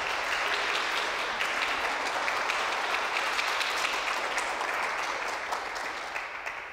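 An audience at a lunchtime talk at the Art Museum of WVU applauds to welcome a speaker, with dense, steady clapping throughout that gradually thins and fades near the end.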